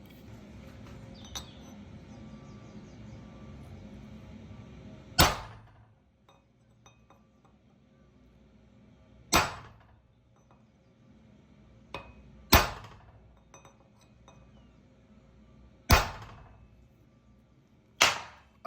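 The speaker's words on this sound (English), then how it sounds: "It's going to be loud because this isn't a very nice surface to hammer into." An old battered anvil struck by a hammer, five or six sharp ringing metallic blows spaced a few seconds apart, each loud and close with a short decaying ring, over a quiet background.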